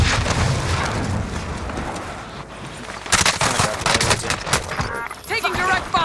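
Rapid automatic gunfire and heavy bursts in Warzone, the MP5 and AMAX setup, with dense volleys through the clip that grow louder and sharper in the second half, over a constant battlefield din.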